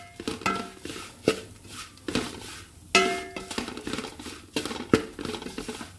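Chili powder and turmeric are stirred as they heat in a pan for mango-ginger pickle, with repeated clinking taps of a spoon against metal and light scraping, close and intermittent, without speech.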